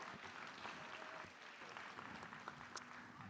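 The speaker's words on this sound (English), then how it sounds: "So I'll take the round of applause" A round of applause at a benefit luncheon for homeless kids, a moderate steady clapping from a seated crowd in a room, continuing evenly throughout with faint crowd murmur.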